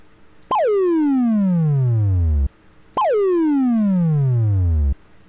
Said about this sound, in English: if we were to use the frequency modulate filter, then the sample would follow the frequency given by the amplitude